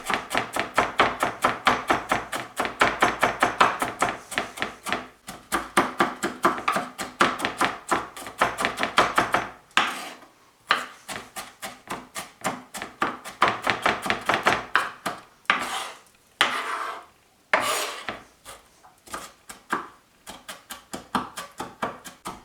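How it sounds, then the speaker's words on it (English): A knife rocks rapidly back and forth, finely chopping a bell pepper on a cutting board for mabo curry: a dense, steady run of close crisp taps, then sparser bursts as the pieces are pushed back into a pile. "So push the pieces into a pile and rock the knife back and forth."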